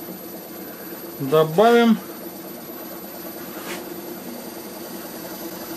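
Wood lathe turning a walnut bowl at about 500 rpm, a steady low mechanical hum running throughout, briefly masked by a short burst of speech.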